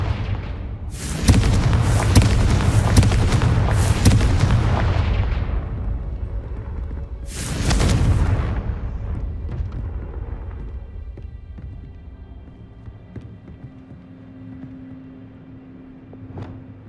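A Confringo fire spell explodes in Hogwarts Legacy with a loud, roaring blast that rumbles for several seconds, followed by a second shorter burst and then a fading, rumbling tail.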